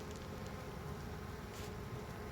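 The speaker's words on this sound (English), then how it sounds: "Ooh, I hear them buzzing up a storm." Honey bees buzzing around an open hive during an inspection make a continuous, fairly faint hum, steady and unbroken with no voices.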